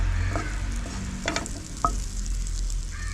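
A piece of butter melting in a hot pan before bread is toasted, a steady close sizzle with a few clinks of a utensil against the pan.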